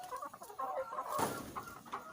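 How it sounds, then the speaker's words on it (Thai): Several laying hens cluck and murmur close by on a farm, a soft busy chatter of short calls with one louder squawk midway. "อันนี้จะเป็นไก่ตัวเมีย"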